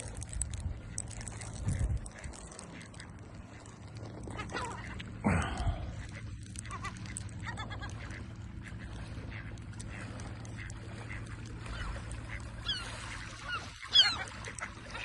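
Geese-like honks and bird calls sound at a pond where swans and ducks are being herded back into the water, with scattered calls over a low outdoor rumble and a brief louder knock near the end.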